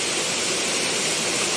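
A 20-metre waterfall roars with a dense, continuous rush of falling water, loud and close, steady throughout with no voices.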